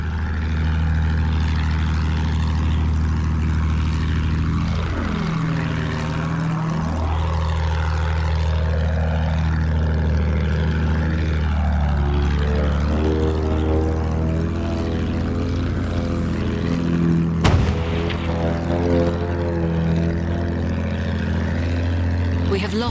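An enemy bomber plane in the Battlefield 1 multiplayer game drones overhead with a loud, steady propeller engine hum, rising and falling in pitch as it passes, under speech and a sharp burst near the end.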